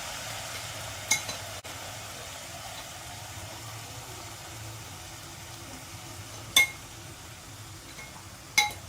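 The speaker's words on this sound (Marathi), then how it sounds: "आता त्याच्यात फक्त भात मिक्स करून घेऊ." Steamed basmati rice is stirred into cooked vegetables and corn in a pan, under a faint steady sizzle and hiss. A few sharp clinks of the utensil against the pan stand out.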